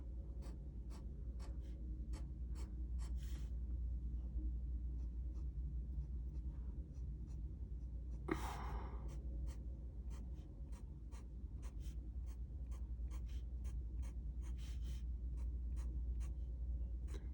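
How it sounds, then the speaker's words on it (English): A pencil draws small windows onto paper for a New York City skyline sketch, with short repeated strokes and dashes scratching along steadily at close range and one brief louder scrape partway through. "With these up here, we can just draw the windows."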